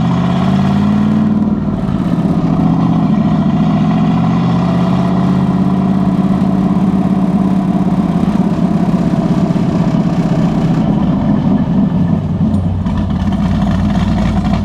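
A turbocharged Camaro with a stage 3 cam idles steadily and loud at its first startup, a lumpy low rumble holding for the whole stretch after an initial rise.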